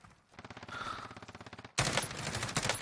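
Video game gunfire: a rapid automatic burst of evenly spaced shots, followed by a sudden louder, denser volley of fire up close.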